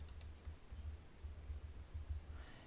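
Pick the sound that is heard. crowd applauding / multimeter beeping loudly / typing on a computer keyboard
typing on a computer keyboard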